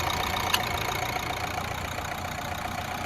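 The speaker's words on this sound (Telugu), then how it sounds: "ఇంజన్ కూడా చాలా స్మూత్ ఉంది." A 2016 Renault Duster RXL automatic idles steadily, a continuous, even engine hum held close and alone for about three seconds, with one brief click early on.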